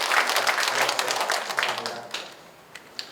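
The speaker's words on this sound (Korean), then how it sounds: "박수로 환영해 주시겠습니다." Church congregation at a Sunday worship service claps in welcome, a lively burst of many hands that gradually thins out and fades, ending in a few scattered last claps.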